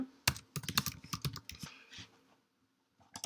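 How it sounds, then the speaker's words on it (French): Someone types on a computer keyboard, a close run of crisp key clicks in irregular bursts, pausing briefly before a few final taps. "Je vais taper ici un email."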